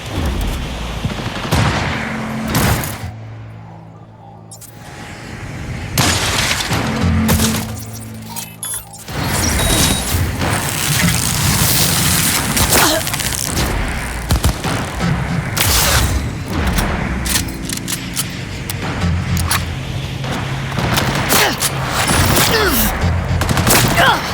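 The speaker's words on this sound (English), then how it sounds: "Enemy artillery!" Enemy artillery blasts and heavy gunfire in Cyberpunk 2077, loud booming impacts and sustained overlapping shots filling the whole stretch, with brief lulls between volleys.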